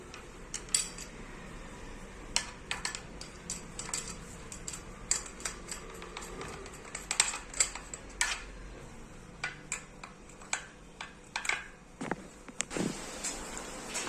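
Small metallic clicks, ticks and scrapes repeat irregularly as a handle is screwed onto a pressure cooker lid, close and quiet, with a thud near the end.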